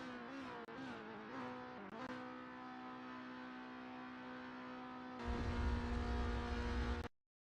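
A race car in a sim racing game laps a track during classic touring car qualifying, its engine a steady harmonic drone with small pitch dips as it shifts, turning louder and rougher near the end before cutting off abruptly.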